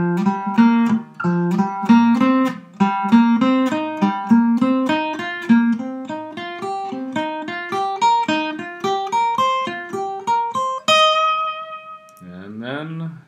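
Electric guitar playing a pentatonic scale with alternate picking in groups of five, a steady run of clean picked notes stepping upward, then a ringing chord and a brief bent note at the end, without speech.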